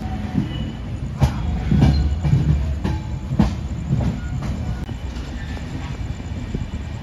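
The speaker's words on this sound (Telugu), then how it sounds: "సో ట్రైన్ అయితే మొత్తానికి స్టార్ట్ అయిపోయింది" The Kakinada Town–Lingampalli special express pulling away and rolling along, with steady heavy rumble and rhythmic wheel clatter heard from inside the carriage, loud and continuous with faint voices beneath.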